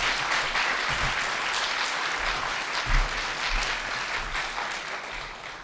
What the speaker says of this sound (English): So please give a round of applause and welcome to Ross Greer and Zara Kitson